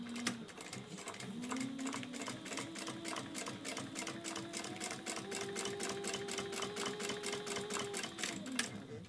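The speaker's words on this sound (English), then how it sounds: "now along this top folded edge, we are just going to top stitch at 1/8 of an inch all the way across" A sewing machine top stitches along a folded fabric edge for a hands-free phone pocket, running in a fast, steady rhythm of needle strokes with a motor whine that shifts pitch partway through.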